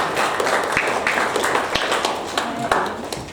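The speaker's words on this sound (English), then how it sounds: "A big round of applause to all of you," Audience applause for Year 12 results at a school staff gathering, a steady wash of many hands clapping with scattered sharper claps throughout, fairly close and even in level.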